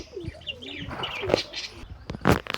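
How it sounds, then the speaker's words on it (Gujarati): Pigeon at its nest coos softly in a short series of low, rolling calls, with some chirps and light rustling nearby. "આ તમને દેખાતી છે કાબરી કબૂતર"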